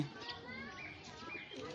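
Pigeons coo softly at a distance, low warbling calls over faint background noise, with a brief chirp among them.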